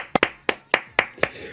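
Six sharp hand claps from one person, close and loud, a quick pair and then four more at a steady half-second beat, with no other sound between them.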